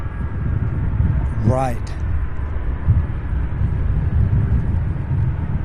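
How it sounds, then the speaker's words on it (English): A McDonnell Douglas MD-11 takes off at Louisville International Airport by the UPS Worldport, heard as a steady, broad low roar in the distance with a brief voice over it. "that means 3 consecutive MD-11s leaving us"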